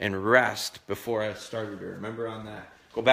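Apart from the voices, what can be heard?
No distinct noise like a dog, phone or traffic.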